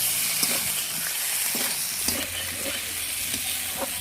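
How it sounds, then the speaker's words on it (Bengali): Chopped tomatoes frying with spice masala in a pan for bhoger khichdi give a continuous close sizzle, with soft intermittent spatula scrapes and taps over it and no voices. "টমেটোগুলো দিয়েও আমি ভালো করে কষিয়ে নেব"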